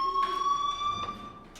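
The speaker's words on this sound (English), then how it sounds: "Hey, do you hear that fire alarm?" Fire alarm in the video game Life is Strange, a steady electronic tone with faint pulsing bursts, heard alone at moderate loudness.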